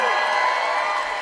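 Concert audience at the Royal Albert Hall cheering and whooping in a dense, steady roar of crowd noise, loud and sustained throughout with no pause.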